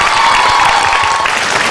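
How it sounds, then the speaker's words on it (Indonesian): Loud audience applause for a young designer and choreographer at a TNI AD Kamera Ria stage show in Indonesia: a burst of dense clapping from a large hall crowd with faint cheering mixed in. "Saya mohon hadirin, berikan tepuk tangan untuk desainer muda kita, Raffi, dan koreografer Uncle B."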